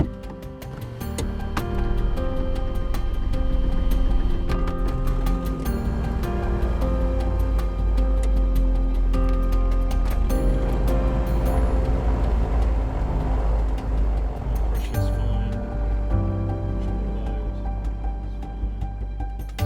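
Twin-engine propeller aeroplane engine starting during a first multi-engine lesson, a rising mechanical whir and clicking that builds into a steady loud engine drone with propeller hum, heard close from the cockpit.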